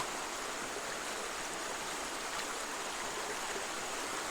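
Steady rushing water of a swollen river in the Konkan region fills the whole stretch, a continuous broadband wash flowing close by, with no voices.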